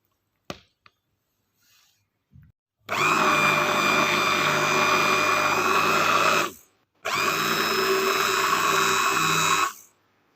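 A motorized churner whips cream into butter at home, running in two loud, steady whirring bursts of about four and three seconds separated by a brief stop, with a few faint knocks before it starts.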